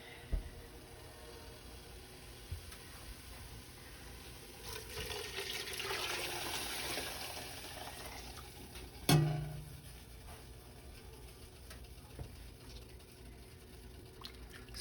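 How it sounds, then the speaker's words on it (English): Broth is poured back into a soup pot of potato chunks, a soft liquid pour that swells in the middle, then a sudden clunk before the room falls quiet again. "And we are going to add the broth back in."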